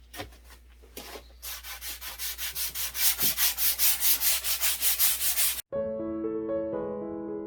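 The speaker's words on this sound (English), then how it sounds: "all we're going to do is lightly sand just to kind of buff it up" Light hand sanding of a polyurethane-coated wooden desk top: rhythmic back-and-forth rubbing strokes, close and growing quicker, then an abrupt stop followed by a brief tonal sound.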